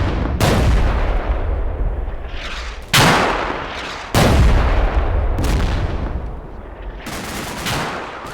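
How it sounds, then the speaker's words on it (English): Mortar and artillery fire in the Combat Mission Cold War game, heavy booming blasts landing one after another with rolling rumble, several loud impacts spaced a second or so apart. "And at the North Bridge, the mortars keep falling."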